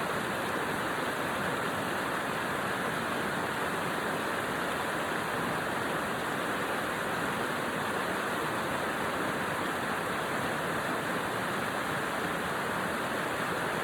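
Rushing water roars steadily and densely, a continuous broadband wash like a waterfall or fast stream, loud and unbroken throughout with no voices.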